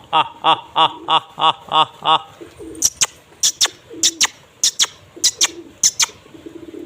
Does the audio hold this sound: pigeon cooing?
yes